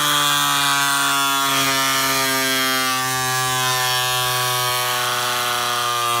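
Air Hogs Accelerator toy plane's compressed-air piston engine running close by, a steady, loud buzzing whine with a strong even pitch, alone and unbroken throughout.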